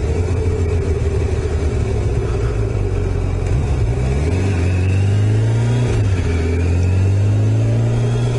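A Kawasaki ZG1000 motorcycle engine runs steadily while riding home on a rainy night, its loud low drone rising and shifting in pitch through the throttle, with a constant broadband road and wind rush over it.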